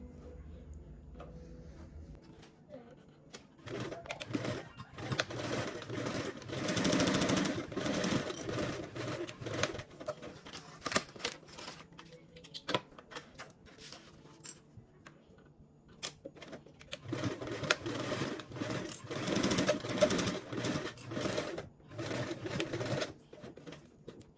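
A home sewing machine runs stitching the side seams of a small fabric card-slot wallet at a quarter-inch allowance, in two long bursts with a quiet gap between them, fairly close and alone.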